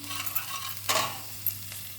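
Raw rice stirred in hot ghee in a pan for Kerala milk payasam: a low, steady sizzle with one sharper scrape of the spoon near the middle and a softer one later, close and fairly quiet, with no voices.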